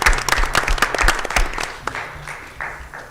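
An audience at a school board meeting breaks into applause, a dense burst of clapping that is loud at first and then thins out and fades over a few seconds.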